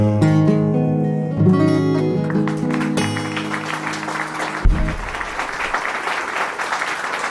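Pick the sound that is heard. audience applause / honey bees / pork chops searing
audience applause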